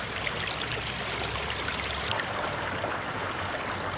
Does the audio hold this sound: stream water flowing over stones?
yes